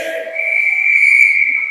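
A referee's whistle at a girls' junior hockey game, one sustained shrill blast lasting nearly two seconds, loud and close, with no voices over it.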